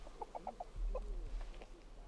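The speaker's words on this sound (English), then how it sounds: "Stupid chicken." Repeated clucks from a chicken in the fantasy video game King's Bounty 2, four quick calls followed by a couple more, fairly close over a low ambient game backdrop.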